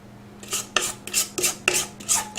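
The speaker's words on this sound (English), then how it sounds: "now we're going to spread our white cake mix" White cake mix being spread in a pan for a savory pineapple upside-down cake, six rhythmic scraping strokes of a utensil against the pan, close and fairly quiet, with no talking.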